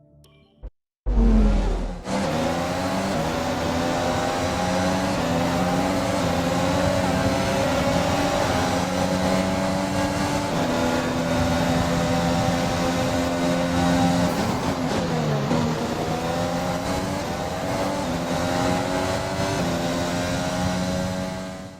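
Race cars in an F1 video game during a race in Australia, a sustained loud engine whine holding steady for the full stretch with shifting pitch, after a short quiet lead-in.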